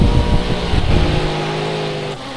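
A pack of GT3 race cars roars loudly and continuously on the Nordschleife in a racing video game, engines droning together with no voices over them.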